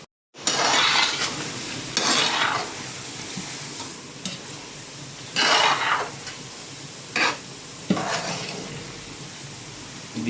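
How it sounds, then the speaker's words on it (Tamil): A spoon stirs cumin powder and other ground spices into vegetable dum biryani in a pot, with a steady sizzle underneath and several loud, close scraping bursts at irregular intervals. "சேர்த்து ஒரு வாட்டி நல்லா மிக்ஸ் பண்ணி விட்டுடலாம்."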